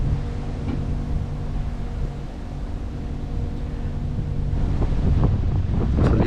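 Strong wind on the Norfolk Broads buffeting the microphone: a constant rough rumbling gust noise, with louder blustery thumps toward the end.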